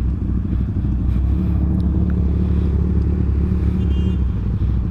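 A Suzuki Shogun SP 125 motorcycle rides alongside another bike, the steady low engine drone and exhaust rumble continuous and close throughout, with no talking.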